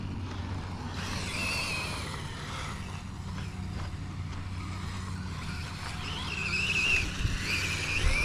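Losi Promoto MX RC motorcycle riding over smooth ground, its small electric motor giving a steady high whine that rises and falls with throttle, continuous and moderately near without any talk.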